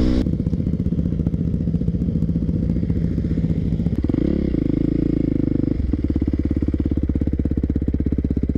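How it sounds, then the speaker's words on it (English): A Yamaha WR450 dirt bike's engine runs loud and close, a rough rapid thumping that rises and falls as the throttle is worked, with a brief shift in pitch midway and no voices. "Wait till I get my hands on that WR450."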